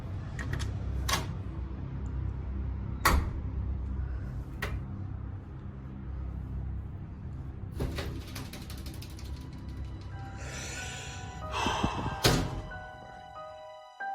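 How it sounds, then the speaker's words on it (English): A door banged hard and flung open in an empty house, heard as several loud, sharp knocks and thuds spaced through the clip, with creaking and rattling mechanical clatter near the end, close and alone without talk. "That is some seriously aggressive banging, and every time he throws the door open"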